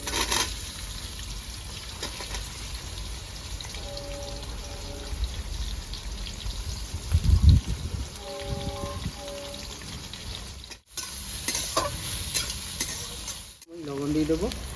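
Chopped onion fries in a pan with a steady, moderately loud sizzle, punctuated by stirring scrapes and a few brief knocks, with a short pause in the sound near the end.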